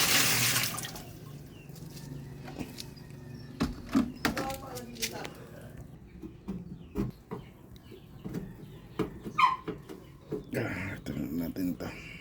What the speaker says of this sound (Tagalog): Nalabas talaga yung tubig.